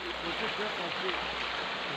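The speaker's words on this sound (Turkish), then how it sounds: "Evet dereden su gelmeye başladı. Karlar eridiği için." Swollen village stream carrying snowmelt in winter, a steady broadband rush of flowing water, close and continuous throughout.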